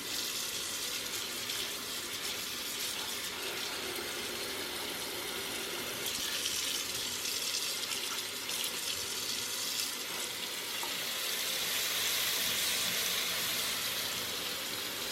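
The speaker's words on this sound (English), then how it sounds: "I'm just going to fill these up with water just to try and soak off some of that dirt" A laundry tap runs into containers being filled with water to soak dirt off freshly harvested turmeric and ginger, producing a steady, even splashing gush that continues without a break.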